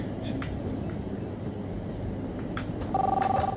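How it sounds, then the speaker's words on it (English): A telephone rings inside the Life Is Strange video game, a short electronic ring tone starting near the end over a steady low background hum. "The phone is ringing?"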